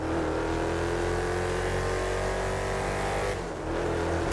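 A race car engine in a PC video game revs with a steady, loud whine that rises in pitch, then briefly dips near the end. There is no talk over it.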